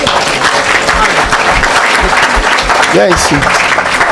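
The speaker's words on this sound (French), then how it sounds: "Acclamons le Seigneur" A church congregation bursts into loud, sustained applause during a deliverance service, dense clapping filling the space while a voice speaks and calls out over it.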